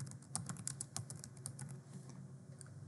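Keys clatter on a computer keyboard as a username and password are entered while setting up a Cisco AP541N wireless access point, light quick taps in an uneven run, close and quiet, with no talk.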